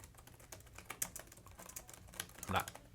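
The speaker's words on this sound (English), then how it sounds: "you can hear the keys" Scattered clicks of tablet keyboard keys being tapped, irregular and close, with a louder cluster near the end, against faint background noise.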